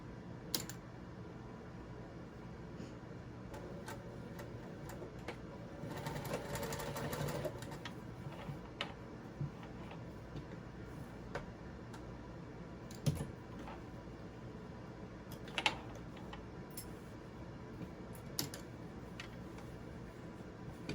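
A sewing machine stitches a cross body bag in short bursts, with rapid mechanical clatter broken by pauses and small clicks and taps, close and fairly quiet with no talking.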